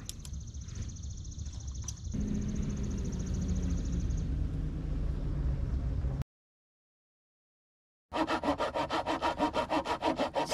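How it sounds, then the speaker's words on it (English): A crosscut hand saw cuts notches into wood while fairing an epoxied boat repair, with steady rhythmic rasping strokes up close, a silent gap, then a burst of fast, loud sawing strokes. "now I go at the fairing process, starting off with my crosscut saw"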